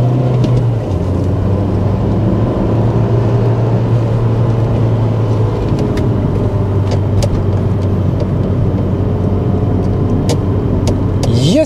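A Volvo V40 T4 estate car driving through corners, with a steady, loud engine drone and road rumble heard from inside, unbroken for the whole stretch.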